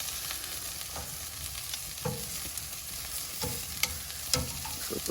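Chicken wings coated in a sugary rub sizzle steadily on an Oklahoma Joe's Judge grill, a constant close hiss broken by occasional pops and faint clicks of tongs as they are flipped.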